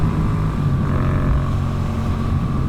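A motorcycle with a long muffler rumbles steadily at speed, its low engine drone mixed with heavy wind buffeting on the microphone.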